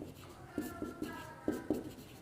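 Chalk or marker writing out a theorem on a classroom board gives a few short scratchy strokes in quick succession, fairly faint against a quiet room hum.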